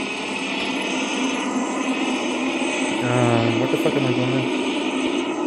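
A Christmas-themed helicopter in the zombie mode of the video game Survivor Royale, its engine a steady loud drone that fills the scene, with a brief exclamation spoken over it.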